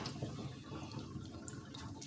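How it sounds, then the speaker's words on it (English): Water drains out of a sink after leafy greens have been soaked to loosen sand and dirt, a soft continuous gurgling and trickling with faint drips, close and fairly quiet. "And you let the water out."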